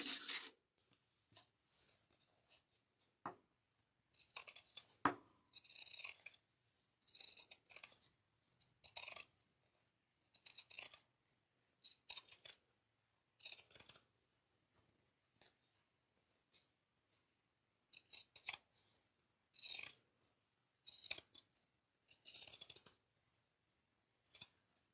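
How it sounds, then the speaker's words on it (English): Pinking shears cutting fabric for a dual-compartment cross-body bag, heard as repeated crisp snipping bursts in irregular runs with short pauses between, close and fairly quiet, no voices. "we're going to do our pinking shears again."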